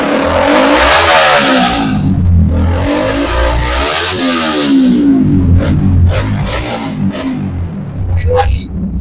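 A second-hand motorcycle engine at a used bike showroom near Kolkata runs loud and close, rising and falling through several revving surges over a rumbling idle, ending with a few sharp clicks.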